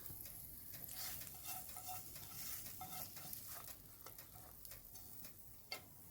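Food sizzles faintly in a pot while a utensil stirs it, giving soft irregular scrapes and ticks over a quiet frying hiss, with no talking.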